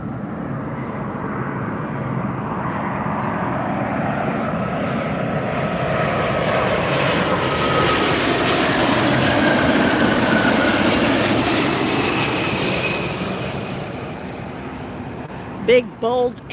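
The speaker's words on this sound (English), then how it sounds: "British Airways. A350-1000, that was beautiful to watch glide in here tonight into Las Vegas." A British Airways Airbus A350-1000 glides in to land at Las Vegas at night, a broad rumbling jet roar swelling and passing close before easing off, with brief sharp noises at the very end.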